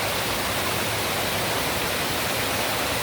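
A river rushes in a steady, loud, broadband wash of flowing water near the listener at a bush crossing, with no voices over it.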